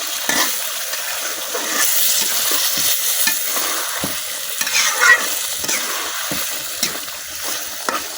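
Chicken feet being stir-fried with spice masala in a pan, a loud continuous sizzle with repeated scraping and stirring strokes from a spatula, close up and without speech.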